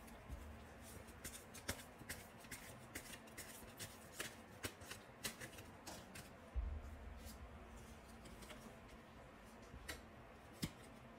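Tarot cards shuffled and cut in quick, dry riffling ticks and slaps, close and fairly soft, with a brief heavier shuffle burst midway and no talk.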